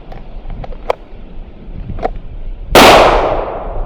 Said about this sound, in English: when the shot comes out